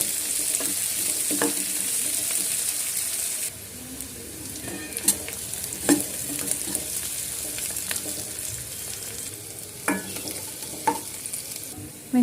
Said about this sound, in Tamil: இப்போ ஒரு கடாயில் எண்ணெய் ஊற்றி நம்ம வெங்காயம் தாளிச்சிக்கலாம்